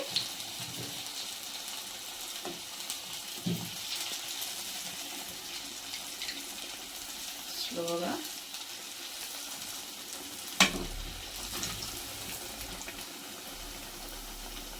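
Curd vada fritters frying in hot oil, a steady soft sizzling hiss with a few light clinks and taps, and a single brief spoken word.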